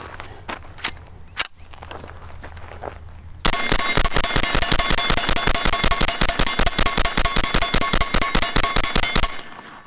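A Bear Creek Arsenal BC-9 9mm carbine fires outdoors. A few scattered shots and clangs come first, then a long, fast, evenly spaced string of loud reports rings out with hits clanging on steel targets.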